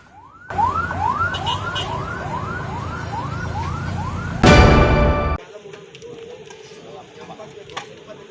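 A fire engine siren wails, sweeping up and down in repeated rising cycles, then a loud burst of blaring noise, followed by quieter street ambience, at a rubber factory warehouse fire in Padang, West Sumatra.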